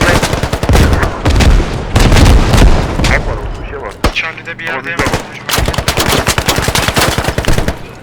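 Rapid automatic gunfire from the military shooter game Squad, loud and close, in dense bursts with a brief lull midway before heavy firing resumes.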